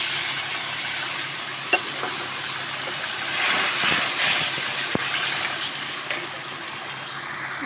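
Grated tomato hitting a hot pan for a paneer curry, giving a steady broad sizzle and hiss with a few small pops and clicks, fairly close and continuous.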